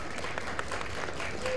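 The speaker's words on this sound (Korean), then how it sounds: "큰 박수 부탁드리겠습니다" Clapping from the audience at a professional boxing prize ceremony, a steady, moderately loud patter that lasts throughout under a low background murmur.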